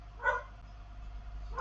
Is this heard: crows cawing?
no